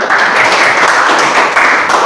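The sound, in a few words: applause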